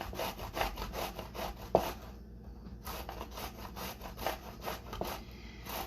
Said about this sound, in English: back to the grating of the zucchini